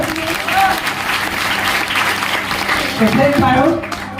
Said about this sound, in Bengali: ওদের জন্য জোরে হাততালি হয় না?